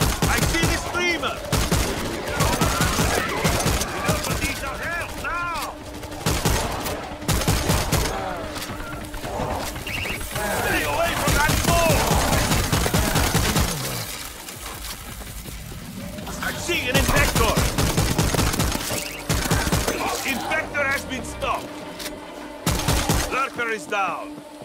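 Heavy continuous gunfire in the zombie shooter World War Z Aftermath, dense rapid volleys filling the scene with brief lulls, mixed with shouted voices and game effects.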